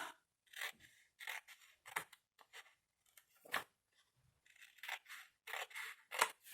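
Paper being trimmed with a cutting blade while making a birthday calendar, giving a string of short, sharp snipping and scraping strokes in irregular bursts separated by brief pauses, close up and with no talking.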